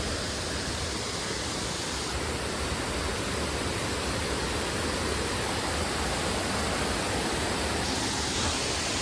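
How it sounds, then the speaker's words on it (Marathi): A hidden waterfall in the Kokan countryside near Asud, Dapoli, roars as a loud, continuous broadband rush of falling water, close and unbroken. "कसला धबधबा आहे बघा"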